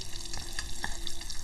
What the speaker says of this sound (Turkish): Şu bakın Cızır cızır cızır bu yağın sesi.